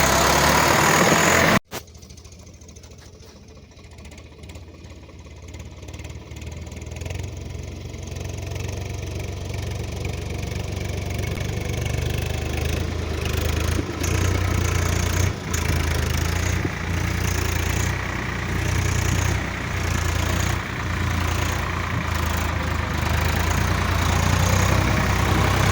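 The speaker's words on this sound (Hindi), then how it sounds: "2 टायरों के ऊपर चल रहा है ट्रैक्टर" A tractor engine runs steadily on a field being leveled after JCB work, with a deep, continuous rumble that starts after a brief jolt and holds at a loud, even drone.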